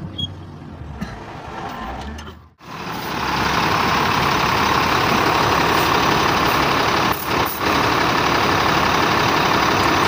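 A Cummins diesel truck engine, fitted after a clutch lining, pressure plate and release bearing replacement, starts after a short pause. It settles into a loud, steady idle with a dense, even drone.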